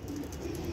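Pigeons on a rooftop loft give low, soft cooing, a murmuring purr that repeats faintly against a steady background hum, with no voices.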